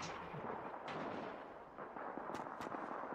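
A few sharp gunshot bursts crack amid a rumbling, noisy battle backdrop in Call of Duty 2, with two quick bright reports near the end.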